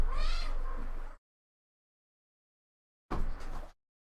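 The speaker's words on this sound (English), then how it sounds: "now just stop fucking meowing" A cat meows twice, loud and close, with a long yowl followed by a short meow after a silent pause.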